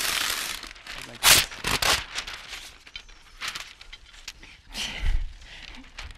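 Parchment paper crinkles loudly in sharp rustling bursts as it is laid over a baking sheet in a kitchen, with a few quieter rustles after and speech partly overlapping.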